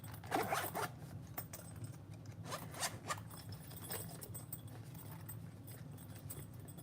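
Velcro tears apart repeatedly on tactical gear, with sharp ripping bursts up close, strongest at the start and again around the middle, over steady handling noise.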